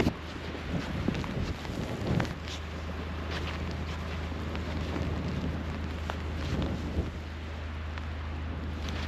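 Blizzard wind gusting across a cattle ranch in mid-April snow, a steady loud roar buffeting the microphone with rumbling low noise and occasional harder gusts throughout.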